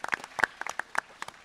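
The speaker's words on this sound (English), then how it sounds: "Give them a round of applause." A short, scattered burst of audience clapping at a GunCon creator panel, individual claps close and distinct rather than a large roaring crowd.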